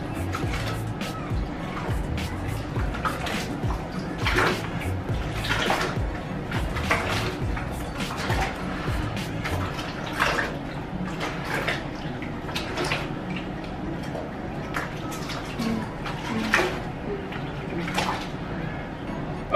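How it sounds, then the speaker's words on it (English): Hot water from a kitchen sink tap running into a bucket, a steady splashing gush with irregular drips and sloshes, close by and moderately loud for the whole stretch. "I'm gonna go ahead and fill my bucket up in the kitchen sink with hot water"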